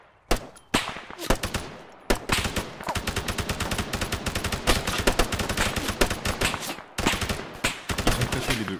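Sustained military gunfire in Arma 3, with dense rapid bursts and single cracks repeating nonstop, loud and close, with short pauses between volleys.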